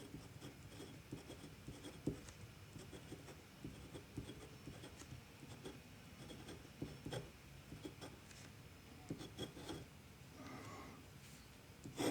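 A glass pen nib scratching across toothy drawing paper, a soft continuous rasping with irregular strokes and short pauses, close and fairly quiet throughout.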